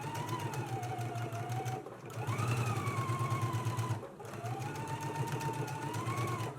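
Sewing machine stitching the sleeve seams of a dress, running in three steady rhythmic bursts with short pauses between, a fast close mechanical whir and clatter with no talk.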